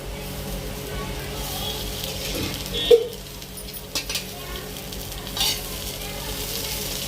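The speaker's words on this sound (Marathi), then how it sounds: "थोडंसं अशा प्रकारे आपण मिरच्या भाजून घेतल्या आहे" Green chillies roasting in a little oil in a pan, a steady soft sizzle with a spatula stirring and scraping, a couple of louder clanks against the pan.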